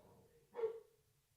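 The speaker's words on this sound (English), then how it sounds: "We can hear my dogs barking" A dog lets out a single short bark from a little way off in an otherwise quiet room.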